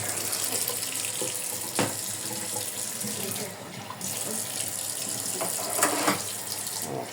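Running tap water splashes continuously as something is rinsed under the faucet, with brief clatters and shifts in the flow.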